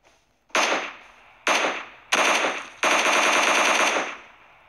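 Automatic rifle fire in the battle royale game PUBG, four loud bursts in quick succession, the last a sustained stream of rapid shots, close and with no talk over it.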